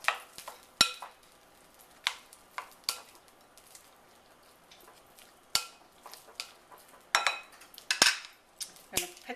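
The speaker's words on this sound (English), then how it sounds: "Going to take a spoon and stir them around" A spoon stirs buffalo chicken fries around in hot sauce to coat them, giving scattered sharp clinks and scrapes against the bowl between quieter stretches, close by with no talking.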